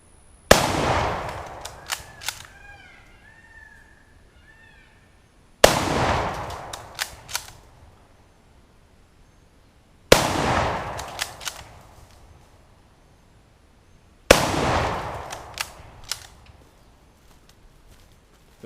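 Four loud, sharp Mosin Nagant 91/30 rifle shots are fired at explosive-filled pants weighted with brick and cinder block, each crack followed by echoing rumble and scattered debris and bolt-cycling clatter, spaced about four seconds apart.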